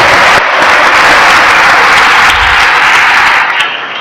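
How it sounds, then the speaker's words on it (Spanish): A church congregation at a Mass applauds loudly for a member's birthday, steady dense clapping filling the space for about four seconds before tapering slightly at the end. "Vamos a darle un fuerte aplauso a nuestro hermano"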